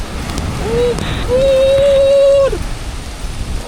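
Steady rain hisses close by on a seaside rock, with a thin whistling tone rising and holding for a second or so above the downpour.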